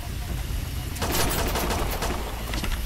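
A killer robot in the shooter game STHELL unleashing a dense, rapid stream of gunfire that erupts after a brief quieter moment and keeps rattling loudly to the end.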